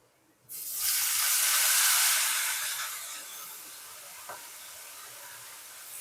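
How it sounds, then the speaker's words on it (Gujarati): Washed vaseti greens dropped into hot oil with garlic cloves, a sudden loud broadband sizzle that bursts up and slowly settles into a softer steady hiss, with a small clink near the end. "હવે આપણે આ ધોયેલી ભાજી રહીને એ ભાજી હવે નાખી દેવી"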